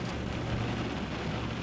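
Steady rain falls on a rainy day, heard from inside a car, a constant close hiss of drops without pause and no voices.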